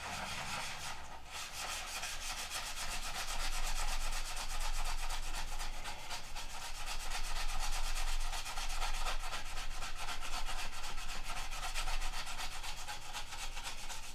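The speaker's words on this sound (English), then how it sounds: "you guys are sanding along with me" Continuous rhythmic rasp of sandpaper rubbing back and forth on wood while building a Nats model airplane, steady strokes close up and fairly loud, with no talking.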